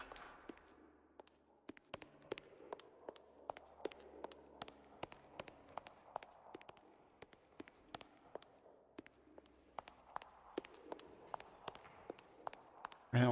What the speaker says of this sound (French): Ah non, mais sans déconner, Olivier, t'imagines travailler avec ce bruit de pas?